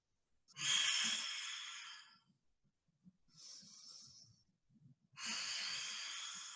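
Three slow, audible breaths held during a yoga pose: long breathy exhales and inhales with quiet pauses between, close and soft, with no talking over them.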